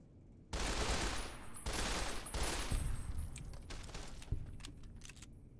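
Gunfire rattles in Fallout New Vegas, modded, with several loud close bursts of rapid shots in quick succession, followed by scattered sharper cracks and a softer ringing tail as the shooting tapers off.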